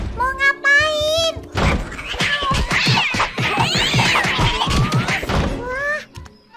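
A cartoon cat in an animated children's cooking show gives a rising, wavering meow, then a stretch of lively speech with thumps and clatter, and a second short meow near the end.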